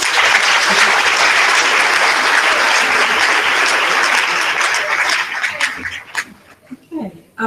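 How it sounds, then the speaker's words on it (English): A conference audience at EUROCALL 2016 gives a round of applause after a keynote speech: sustained, full clapping for about six seconds, then tapering into scattered claps with a few murmured voices. "Let's all thank Mark with a round of applause."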